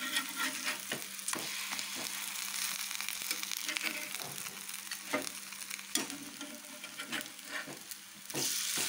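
Bajji fritters deep-frying in hot oil: a steady, close crackling sizzle with scattered sharp pops and spatters throughout, no talk.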